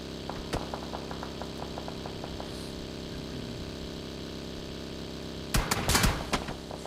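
Rapid bursts of video-game gunfire hit a buggy late in the tournament match, a loud crackling volley near the end that follows a stretch of quieter evenly spaced ticking over a steady engine hum.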